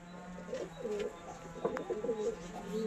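Soft, low cooing from a pigeon kept at home for sale, repeated in several gentle, rolling phrases, fairly faint and close, with light background rustle.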